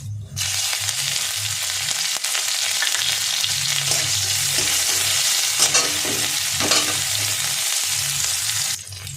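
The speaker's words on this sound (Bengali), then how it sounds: "লঙ্কাটা ভাজা ভাজা হয়ে গেছে।" Chopped green chillies fry with cumin in hot oil, a loud, close, continuous sizzle broken by the scrape of stirring and no talk.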